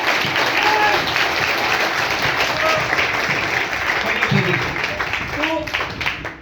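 An audience at a business training meeting claps loudly and steadily as a dense wash of applause, with some voices mixed in under the clapping.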